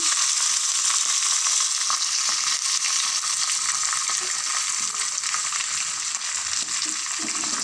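Asafoetida dropped into hot oil sizzles and fries steadily while making moong dal rasam, a loud, close, continuous crackling hiss with light stirring.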